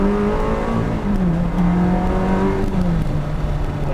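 A Ferrari 360 Modena engine revs up in a short blip, a loud, steady, rising and falling growl heard close by with no talk.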